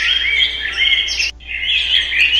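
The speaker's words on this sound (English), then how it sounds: "Birds." Loud, busy chirping and tweeting from birds gathered close by at a dryer vent, continuous with one brief pause, and no voices.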